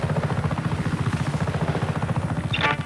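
Helicopter from the video game Just Cause 3, its rotor thumping in a steady, fast rhythm close up and loud, with a brief bright whine near the end.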